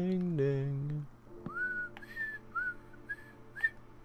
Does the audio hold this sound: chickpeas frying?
no